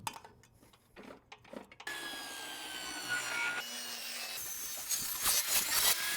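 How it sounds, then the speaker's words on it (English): Table saw ripping a scrap piece of plywood down to width, a steady loud whining cut that builds after a few seconds of handling noise and continues unbroken to the end. "I'm going to use this scrap piece of plywood and I'm going to rip it down to 10 inches."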